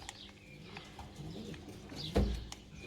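Pet breeding birds in an aviary make soft cooing and scattered chirps at a distance, with a brief louder flutter or knock near the end, on a quiet background.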